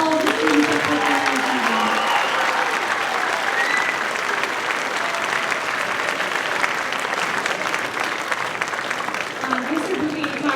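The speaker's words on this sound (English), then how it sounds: "Can we give one more round of applause for all the students that put their" Sustained applause from a school concert audience honoring the students, a dense steady wash of clapping lasting throughout, with some crowd voices mixed in.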